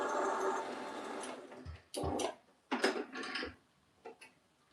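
A sewing machine runs in short bursts while stitching a fabric strap and back-stitching at the end, a longer whirring run followed by three or four brief mechanical runs, near and fairly quiet with no talk.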